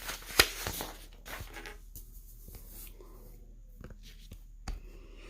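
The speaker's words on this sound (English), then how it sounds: "So let's rewrite that on another sheet of paper" A pen writes on a sheet of paper, soft scratchy strokes in short bursts and quiet taps, close and faint, with no talking.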